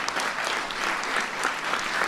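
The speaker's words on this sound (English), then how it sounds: "Give him a big round of applause." Audience applause at a White House science fair welcoming a guest, a dense, even patter of many hands clapping continuously throughout.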